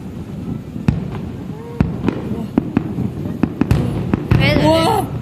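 Fireworks launched and bursting at a lakeside display at Hồ Văn Quán, with a series of sharp near booms and crackling, whistling trails, some cheering voices mixed in.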